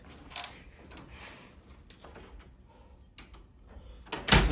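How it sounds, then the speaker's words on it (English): A hotel room door on the fifth floor of a Drury Inn in Amarillo, Texas, is unlocked and opened, giving a few soft clicks and rattles of the lock and handle, then a louder thud and sweep as the door swings open. "Let's open the door and show you the space."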